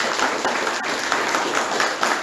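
Parents and pupils at a school summer music concert applaud year three recorder players, a brisk, dense clatter of clapping hands heard close and steady throughout, with no talk over it.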